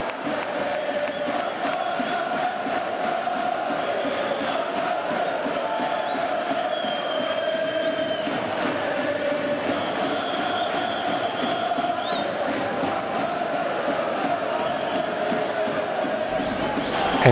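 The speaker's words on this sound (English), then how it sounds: "All those cheering and wave flagging," A large football stadium crowd at a Werder Bremen match roars and chants continuously, a dense, steady wall of voices with rhythmic clapping, heard from within the stands.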